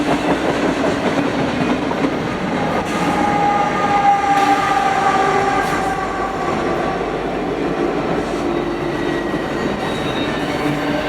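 A train rumbles past nearby with a steady roar, wheels clattering over the rails and a faint metallic squeal riding above the noise.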